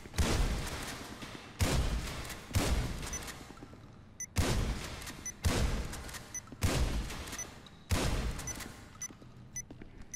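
Gunfire in Grand Theft Auto 5 comes as seven evenly spaced heavy shots, each a sharp, loud blast with a short decaying tail, spread across the stretch with pauses between them.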